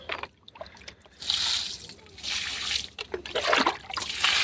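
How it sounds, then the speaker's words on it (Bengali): Water splashes and trickles onto flower plants such as marigolds, coming in three broad gushing bursts separated by brief quieter gaps, fairly close and steady, with no voices. "ফুল গাছগুলোতে জল দিতে হবে"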